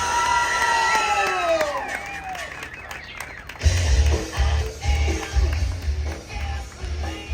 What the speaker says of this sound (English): Everybody make some noise for Chip Foose